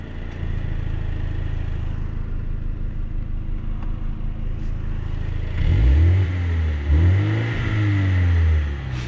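2021 BMW M235i Gran Coupe with OPF filter, engine droning steadily under acceleration, then a deeper booming exhaust surging in as the valve opens, rising and falling in pitch with two strong swells, close and loud.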